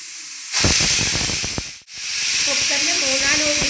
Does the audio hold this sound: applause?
no